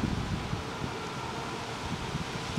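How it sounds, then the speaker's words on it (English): A strong wind gust blows steadily across the microphone outdoors beside a tin can camp stove, a loud, continuous broadband rush with buffeting thumps. "now there's a really big wind gust"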